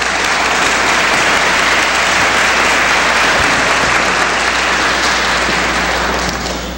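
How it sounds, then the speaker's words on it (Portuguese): An audience at a legal-assistance lecture applauds a woman being welcomed to speak, a loud, dense, continuous wash of clapping that holds steady and tapers slightly at the end. "Vamos recebê-la com os nossos carinhos, com as nossas vibrações e os nossos aplausos"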